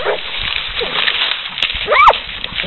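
Coon dogs on the hunt bark and yip in short, close bursts while someone shouts encouragement over them, with rustling and splashing underneath.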